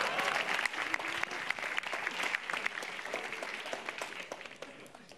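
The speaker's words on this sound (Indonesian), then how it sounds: "Beri tepuk tangan untuk yang gemuk satu ini." A comedy club audience at a stand-up show claps steadily for several seconds, a dense even patter of hands heard at moderate distance with no voices over it.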